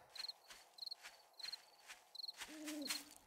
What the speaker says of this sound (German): Komisches Geräusch. Eine Eule.